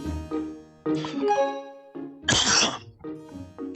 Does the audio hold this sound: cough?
yes